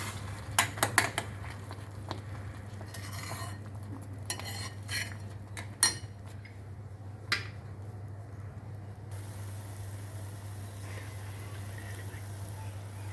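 A spoon scrapes and taps against a pan while mango halwa with cardamom powder is stirred, giving a few sharp clinks early on and then soft, sparse scraping under a steady low hum.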